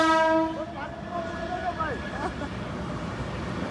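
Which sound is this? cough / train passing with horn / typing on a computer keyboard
train passing with horn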